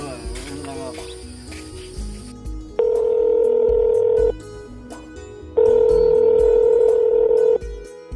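A telephone line answers a dialed call with two long, loud electronic ring tones separated by a pause, preceded by a brief stretch of other sound.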